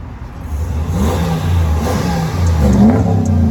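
A truck engine fitted with sleeper mode mufflers revs up, a mid-pitched roar swelling over a few seconds and holding loud and close, with no voices.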